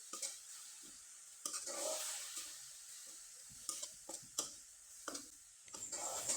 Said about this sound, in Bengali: এবার খুব ভালোভাবে নেড়েচেড়ে পুরটাকে একটু শুকনো করে তৈরি করে নেব